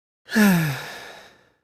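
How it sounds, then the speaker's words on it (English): A single close, breathy sigh that starts with a voiced drop in pitch and trails off into a soft exhale. "sigh"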